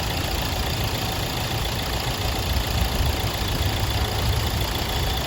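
A Hyundai Elite i20 engine idles steadily throughout, a constant low mechanical hum with no break and no talk over it.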